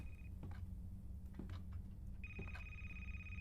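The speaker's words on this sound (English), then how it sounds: "Where's that phone coming from?" A thin electronic phone ring in the indie horror game A Place, Forbidden, one short tone at the start and another sustained ring near the end, faint over low ambient hum with soft ticking clicks.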